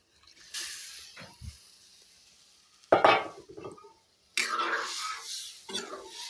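Tengra fish goes into a hot pan for a curry with pointed gourd, setting off a sudden loud sizzle and hiss, followed by another sizzling burst and faint clinks of cookware.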